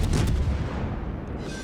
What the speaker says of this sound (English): Switching over to HE. 2 rounds from a turret. Going out.